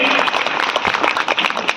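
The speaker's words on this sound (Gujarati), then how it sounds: "જોરદાર તાળીઓના નાદથી આપણે આપણને વધાવીએ" A short burst of hearty clapping from a gathered audience at a Bhagavad Saptah devotional gathering, dense and close throughout.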